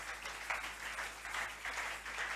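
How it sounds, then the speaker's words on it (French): Church congregation applauding during a French-language sermon, a steady wash of many hands clapping at moderate distance, sustained without pause. "Nous applaudissons le Seigneur pour ce travail-là."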